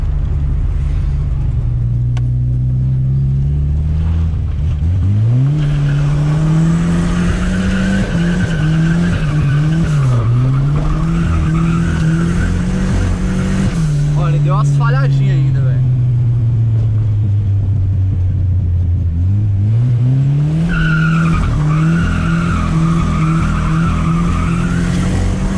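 A turbocharged Chevrolet Chevette with a carburetor, its engine droning steadily while driving, with pitch rising and falling and occasional stumbling misfires, loud and close, with a voice speaking over it at times.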